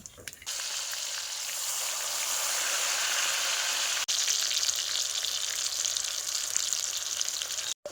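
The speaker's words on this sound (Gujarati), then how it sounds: "સૌથી પહેલાં તેલ ગરમ કરી નાખવાનું છે અને તેની અંદર પછી બધા મસાલા એડ કરી દેવાના છે જીરું એડ કરી દેવાનું ત્યારબાદ આપણે ટમેટા અને ડુંગળીને એડ કરીશું" Tomatoes and onions frying in hot oil with cumin and spices for a rustic village dish, a loud steady sizzle that holds throughout with two brief cutoffs.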